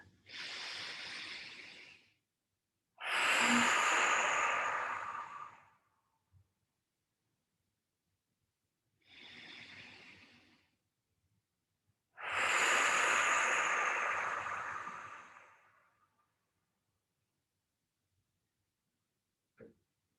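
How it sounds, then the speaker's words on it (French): Slow, deep breaths during a vinyasa yoga session: four long audible inhales and exhales, each lasting a few seconds, with quiet pauses between and no talk. "grande expiration pour relâcher toutes les petites tensions de la matinée. Encore 2 respirations profondes."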